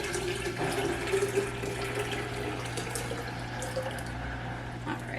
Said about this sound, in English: top the rest of that off till probably about 3/4 full with just regular filtered water